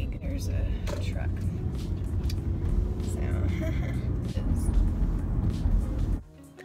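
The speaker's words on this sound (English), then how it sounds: "There's a truck." A truck rumbles past on the road with a low, steady engine drone that holds for several seconds and then cuts away abruptly, with faint background sounds over it.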